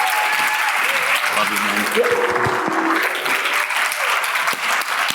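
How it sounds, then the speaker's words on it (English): An audience claps loudly and continuously, a dense wash of applause with someone speaking briefly over it. "Let's give all a round of applause"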